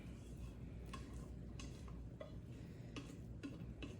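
Sweet corn kernels scraped and spooned into two Pyrex baking dishes in a home kitchen, giving a series of short scraping clinks and taps at moderate level over a steady low room hum, with no talking.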